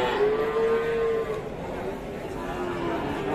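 Cattle at a livestock market lowing in one long drawn-out moo, then a second fainter moo over a steady murmur of crowd chatter in the background.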